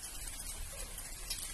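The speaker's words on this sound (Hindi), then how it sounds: "क्योंकि बारिश हो रहा है यहाँ पे।" Rain falls outside during an unseasonal shower in Assam, a steady, faint hiss of drops that stays even and continuous throughout, with no voices.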